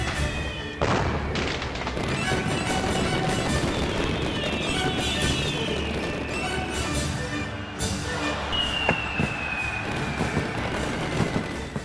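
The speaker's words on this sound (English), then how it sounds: "The sounds of exploding firecrackers and cheering resonate through the sky." Firecrackers bursting at a Chinese New Year street celebration, a dense continuous crackle with scattered louder bangs and whistling rockets, heard from the crowd's midst with steady background din.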